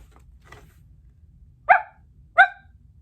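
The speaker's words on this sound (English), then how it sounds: "We find out that Andy got a puppy" A puppy gives two short, sharp barks about a second apart, clear and fairly close against a quiet background, with a couple of faint yips just before.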